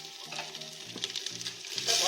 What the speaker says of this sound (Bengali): কষা হচ্ছে